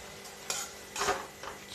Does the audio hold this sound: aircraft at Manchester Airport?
no